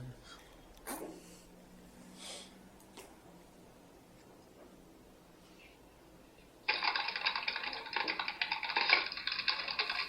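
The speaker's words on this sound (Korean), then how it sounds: "이 타이핑은 누가 하노?" A keyboard is typed on close to an open microphone, a loud burst of rapid, dense keystrokes that starts suddenly partway through and follows quieter clicks and taps.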